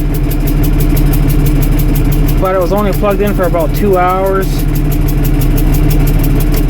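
A 1978 International Harvester 1586 tractor engine idles steadily after a cold start on the block heater alone, a loud, even, close-up drone running throughout while someone talks over it partway through.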